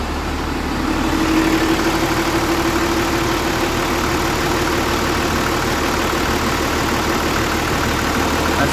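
A Cummins 12-valve diesel swapped into a fourth-generation dually truck with a 4-inch straight pipe idles loud and close, a steady low rumbling clatter that holds evenly without revving.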